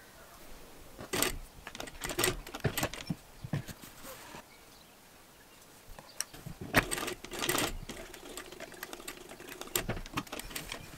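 A sewing machine stitching darts on wide-leg pleated pants, running in short bursts of rapid rattling stitches separated by quiet pauses.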